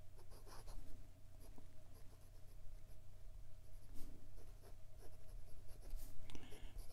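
Ferris Wheel Press brush fountain pen with a medium steel nib writing on Clairefontaine 90 GSM paper: close, continuous soft scratchy strokes with brief pauses and lifts, steady and quiet without speech.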